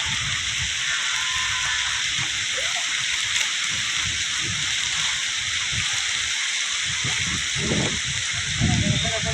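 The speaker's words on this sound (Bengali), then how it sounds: "তাড়াতাড়ি তাড়াতাড়ি বৃষ্টি পড়তেছে নাকি" Steady rain falls over an orchard of mango trees heavy with large Fazli mangoes, a continuous hiss of drops close by throughout, with a person speaking briefly under the downpour.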